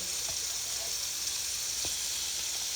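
Butter sizzles in a hot pan while shrimp cook, a steady close hiss with a few faint pops and light clicks, no voices.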